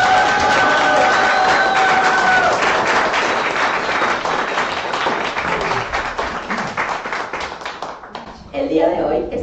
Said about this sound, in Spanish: me gustaría pedirles una ronda de aplausos